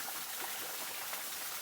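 Water runs along a forest stream where a rescued snake is being released, making a steady close rushing and trickling wash with no voices.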